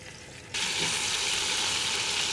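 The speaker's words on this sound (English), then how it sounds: "what we're doing right now is browning the meat" Seasoned chicken browning in a black pot for Cajun gumbo, a steady loud hiss of frying that jumps abruptly in intensity after a brief quieter start, close up with no talking.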